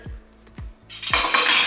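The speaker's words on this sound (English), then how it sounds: "let's see if I can do the dishes" Dishes and cutlery clatter in a kitchen sink: three dull knocks of crockery spaced apart, then a louder, continuous rattle and scrape of metal utensils being handled up close.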